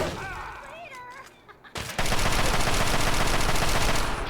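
Rapid automatic assault rifle fire in Fallout 3 erupts after a short stretch of quieter game sounds and a voice, then hammers on as a dense, loud, continuous burst.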